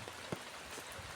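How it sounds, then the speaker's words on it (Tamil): Steady, continuous rain falls around a rural home, a faint, even patter with no break across the moment. "விடாமல் மழை பெஞ்சிக்கிட்டே இருக்கு"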